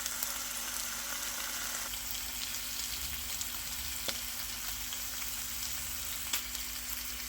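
ASDA Just Essentials bacon fries in a pan with a steady, close hiss and crackling sizzle, broken by a few faint pops, and no one talks.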